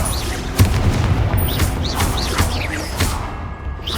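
Hogwarts Legacy gameplay: the Incendio fire spell is cast with a sharp whooshing burst, followed by several crackling, booming magical impacts and chirpy effects over a busy game soundscape.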